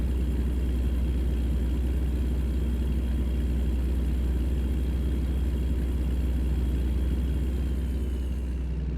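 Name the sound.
truck engine driving in video game American Truck Simulator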